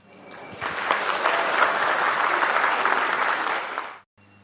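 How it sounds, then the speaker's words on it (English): Audience applause welcoming a speaker onto the stage at an architects' forum silver jubilee celebration, a dense steady clapping from a large crowd that swells quickly, holds for about three seconds, then stops abruptly. "Please welcome him on stage with a big round of applause."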